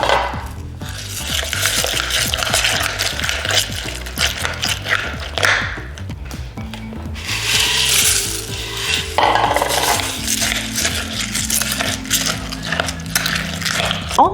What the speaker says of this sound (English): Continue to stir it.